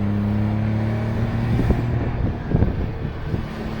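A right-hand-drive Smart Roadster accelerating from inside the cabin, the steady engine drone rising slightly with a few bumps and rattles over constant road and wind noise, with no talk.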